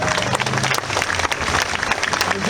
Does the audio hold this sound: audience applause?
yes